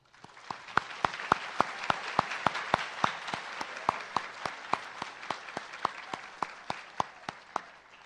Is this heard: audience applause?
yes